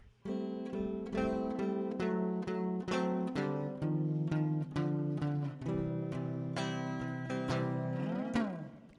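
Acoustic guitar chords strummed and plucked one after another in a steady rhythm, clear and close, with no voices.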